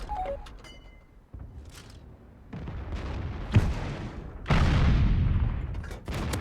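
Tank cannon fire in World of Tanks from a KV-5: several deep booms and rumbling blasts, one sharp, punchy shot midway and a heavier, sustained roar near the end, with no talk.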